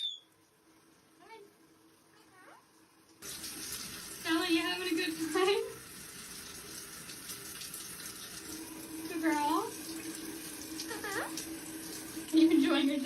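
Tap water runs in a steady broadband hiss from about three seconds in while a parrot gets a shower, with a few soft bird squawks and someone talking over it throughout.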